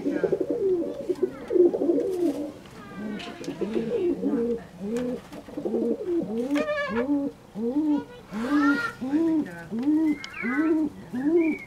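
Fantail doves cooing in a coop, a steady series of soft, rounded, repeated coos from several nearby birds, with a few higher chirps mixed in and no talking.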